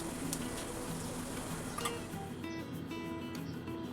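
Mustard seeds, cumin and asafoetida sizzle in hot oil as a tempering for bitter gourd bhaji, a constant fizzing hiss with faint crackles and no voices.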